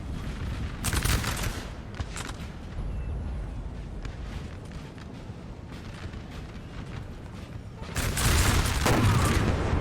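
Musket volleys and battlefield noise from Napoleon: Total War during the Battle of Toulouse, as Guard infantry fire on Highlanders: a dense crackling roar with bursts of rolling gunfire, loudest near the start and again toward the end.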